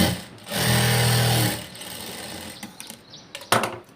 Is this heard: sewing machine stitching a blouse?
yes